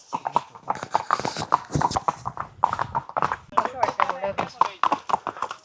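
Horse hooves clip-clop at a steady walking rhythm during a ride on the trails of Matheran hill station, close and clear, with people talking over the hoofbeats.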